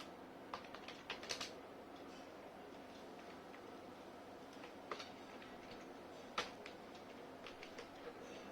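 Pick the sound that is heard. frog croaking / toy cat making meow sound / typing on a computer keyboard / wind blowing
typing on a computer keyboard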